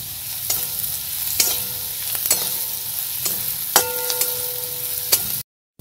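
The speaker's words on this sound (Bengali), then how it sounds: "তো দেখো পেঁয়াজটা বেশ ভাজা ভাজা হয়ে যাচ্ছে।" Onion frying in a pan for potato chops, a continuous sizzle broken by several sharp metallic clinks of a spoon stirring against the pan, ending in a brief silence.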